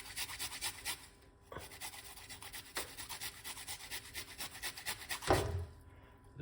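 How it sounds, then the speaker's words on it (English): Small piece of ginger grated by hand, rhythmic close scraping strokes in quick succession with a brief pause, fairly faint and without talk. "So let's grate a little piece of a ginger."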